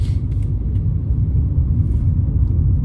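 A car comes along a road during a driving test, heard from inside the vehicle as a steady low rumble of road and engine noise that stays level throughout, with no talk.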